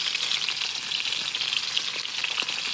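Eggs fry in hot oil with a loud, dense, crackling sizzle that stays steady and close throughout, with no voices.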